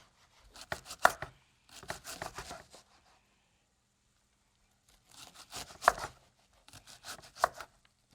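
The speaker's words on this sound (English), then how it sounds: "So now I'm gonna cut it the other direction to make it little" A knife chops food into small pieces on a cutting board, ahead of frying. Two bursts of quick, crisp chops are separated by a few seconds of silence, close and fairly loud with no talk.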